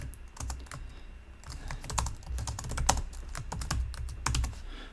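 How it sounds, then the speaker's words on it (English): Keys clatter on a computer keyboard in bursts of quick, uneven taps, close and clear with no voices over them. "I'm going to type a day in the life."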